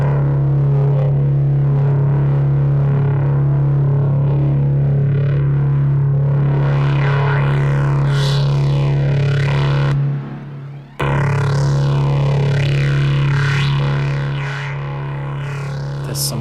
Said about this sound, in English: That's beautiful distortion to my ears